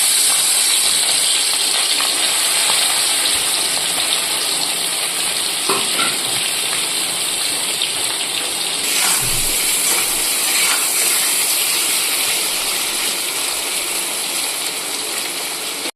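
Salted, turmeric-coated prawns fry in hot oil in a wok, giving a loud, steady hissing sizzle that continues unbroken, with occasional stirring clatter and no voices.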